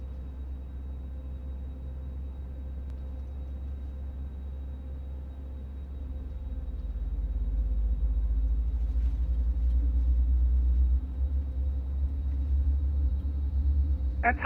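Airbus A330neo engine start in MSFS 2024: a low, steady rumble from the cockpit swells gradually and holds, with a faint hum and a brief click near the end.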